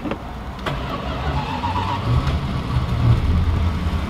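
V8 car engine idling with a steady low rumble, swelling slightly louder toward the end, with a few faint clicks on top.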